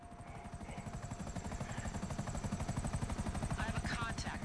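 Helicopter in GTA Online with rapid, steady rotor chopping that grows slightly louder, fairly faint overall, with brief voices near the end.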